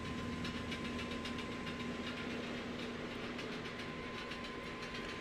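McDonnell Douglas MD-11 engine in Microsoft Flight Simulator, a steady droning, knocking engine hum with a constant whine and rapid rhythmic pulsing, sounding oddly like a train, with no talk.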